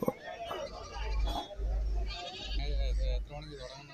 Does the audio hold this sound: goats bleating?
yes